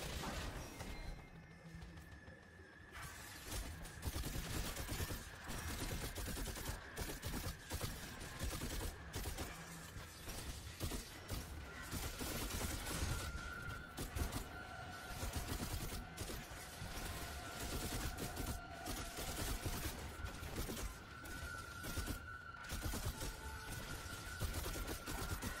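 Weapon fire in the Destiny 2 Sepulcher lost sector, including scout rifle and Osseo's trigger, crackles in dense, continuous rapid bursts with crashing impacts and mechanical clatter, loud and sustained over game music.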